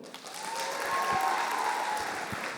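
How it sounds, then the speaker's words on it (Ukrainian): A stand-up comedy audience claps in a sustained burst of applause, a dense, even crowd patter with light cheering that swells slightly and holds steady throughout. "Давайте так, поаплодуйте, хто вважає, що одруженим бути це круто"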